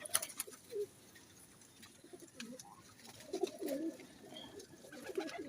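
Firozpuri pigeons coo softly at close range, giving several low, rounded calls in short bursts with quiet gaps between them, set against faint background noise.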